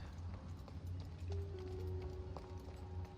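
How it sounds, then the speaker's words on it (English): A horse trots and gallops in the video game Assassin's Creed Odyssey, rhythmic clip-clop hoofbeats at low volume, with faint game ambience and a brief tonal sound effect over the hooves. "And here's the horse."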